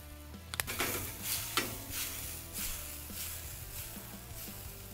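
Onions and jalapenos sizzle in a pan with a soft, steady hiss, plus a few early clinks and scrapes of a utensil, with a low hum underneath and no voices.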